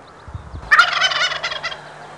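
Wild turkey gobbles once from mid-distance, a rapid rattling burst that trails off after a soft thump beforehand, set against a quiet outdoor background.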